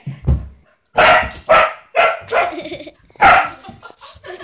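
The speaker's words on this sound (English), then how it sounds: "If you hear the barking," A dog barks nearby in a series of about six sharp, loud barks at an uneven rhythm, separated by short pauses.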